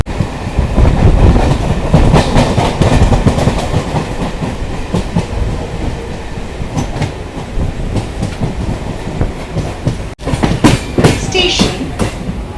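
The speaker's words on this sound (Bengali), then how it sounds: "আমাদের ট্রেনটি নিউ ব্যারাকপুর স্টেশন থেকে ছেড়ে দিল" A Sealdah–Bangaon line local train pulls out of New Barrackpore station, its wheels rumbling and clattering loudly and steadily on the rails, with a brief dropout near the end before the noise picks up again.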